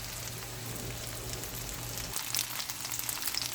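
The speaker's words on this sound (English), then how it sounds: "So I'm gonna allow each side to fry for about 3 minutes." Turkey burgers frying in a pot give a steady, close crackling sizzle with a low hum underneath, continuous throughout with slightly sharper pops toward the end.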